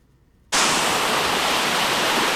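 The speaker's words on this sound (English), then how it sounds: "this waterfall. Although the ones in the south are usually bigger than this waterfall." Desert waterfall in Bar Canyon in the Organ Mountains, a steady broadband rush of falling water that starts abruptly after a brief quiet moment, then stays loud and constant, close and alone.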